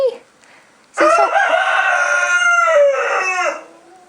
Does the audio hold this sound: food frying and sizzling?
no